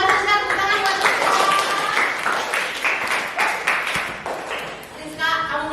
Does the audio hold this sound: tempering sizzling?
no